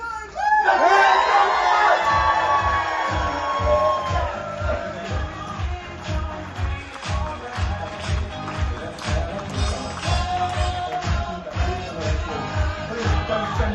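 A crowd aboard a Disney cruise ship on embarkation day cheers and shouts with excited children, then settles into steady rhythmic clapping in time, lively and close, with talk mixed in.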